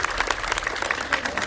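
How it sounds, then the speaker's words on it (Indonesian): Audience applause during a live promo appearance, a short burst of dense clapping with crowd murmur and some voices mixed in. "Wow, tepuk tangan dong"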